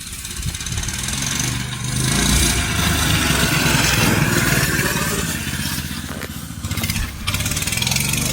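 Minibike engine idling close by, a loud, rough, rapidly pulsing putter that dips briefly and picks back up, running alone without speech.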